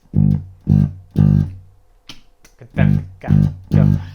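Punchy low bass guitar notes play a three-note groove from a cover version of a song in short repeating groups, with a brief pause and some clicking in between, then the pattern resumes.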